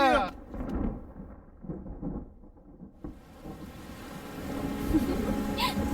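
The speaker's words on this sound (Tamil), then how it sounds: "ஹை மழை." In a Tamil film scene, a heavy rumble of thunder rolls and fades, then steady rain builds to a dense hiss and patter on surfaces.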